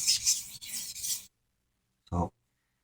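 A knife is sharpened by hand, with attention on the heel: a run of close, rasping strokes, then a pause and one short, low burst.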